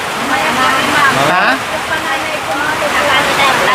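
Heavy first rain of the season pours down in a dense, continuous roar close by, with a brief voice cutting in partway through.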